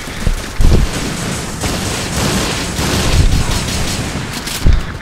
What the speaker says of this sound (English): I'm hearing shot, shot, shot, shot.